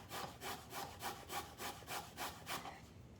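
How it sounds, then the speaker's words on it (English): A microplane grater rubs up and down on a board in steady, even strokes, about eight rasping passes, close and quiet with no talk. "putting the tip of the microplane on the board, and then being very careful with my fingers, rubbing it up and down"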